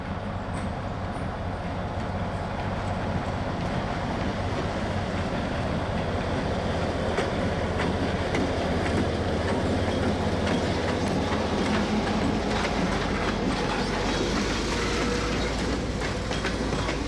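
A slow freight train passes steadily with a transformer load in tow, heading through a neighborhood. Its rumble and wheel clatter hold constant and fairly loud from start to finish, with no voices.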